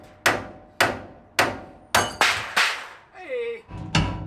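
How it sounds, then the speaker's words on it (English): A sledgehammer strikes a pickle fork driven against a worn tie rod end on a first-generation Dodge Ram truck's front suspension, delivering six sharp, ringing metallic blows at a steady pace, then a brief squeak and one more hit. "you're gonna need your trusty pickle fork and a sledgehammer"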